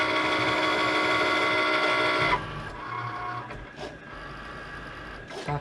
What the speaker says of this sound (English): now I can hit the Cricut button, and that should start sucking it in